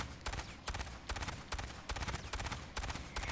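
Rapid automatic bursts from the PPZ-49 Vol gun in the sci-fi shooter Aliens: Fireteam Elite, loud and close, several sustained strings of shots separated by brief pauses, with no talk.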